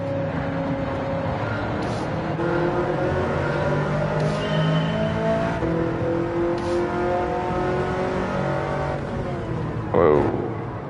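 A race car engine in Gran Turismo 7 drones and revs steadily, with gear-change surges and a brief bark near the end, heard up close under faint background game sounds.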